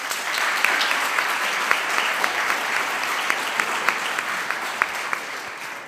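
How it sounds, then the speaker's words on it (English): Sustained audience applause fills a school hall at the Sunny View School Year 13 graduation in June 2022, honouring a graduating student; dense, steady clapping from many hands holds evenly throughout with no voices on top. "We'll give him a round of applause."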